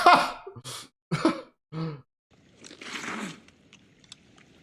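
Someone slurps noodles during a meal in a historical Japanese TV drama; a short, noisy slurp comes after a few brief vocal sounds and breaths, then fades into quiet.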